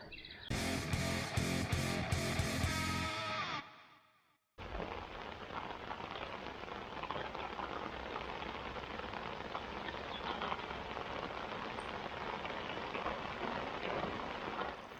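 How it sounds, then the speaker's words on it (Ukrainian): Heavy summer rain pours down during a thunderstorm on a float-fishing outing, a steady dense hiss of drops on water and surfaces filling the scene after a short burst of louder noise. "Ви дивіться, яка злива."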